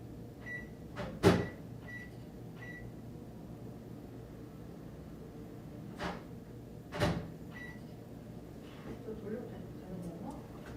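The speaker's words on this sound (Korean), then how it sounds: "전자레인지 있어 저기 있다 나 돌리고 올게" A microwave oven hums steadily in the background of an office, broken by two sharp clunks like a door or cupboard shutting, with muffled voices nearby.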